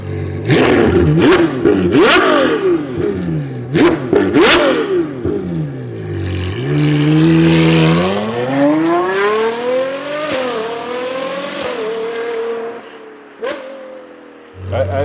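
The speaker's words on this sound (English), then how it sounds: "I can drive 300 and have a V12 sound what you can't imagine, really." A Novitec-tuned Ferrari Purosangue V12 gives a string of sharp, loud revs in quick succession, then sweeps up through a long, rising acceleration and falls back off, with a crackle near the end.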